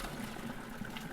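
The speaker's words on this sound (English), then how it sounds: "I'm just going to drain this quick in the sink." Cooked pasta and its water poured through a colander into a kitchen sink, giving a steady rushing gush of water that stays faint and even throughout.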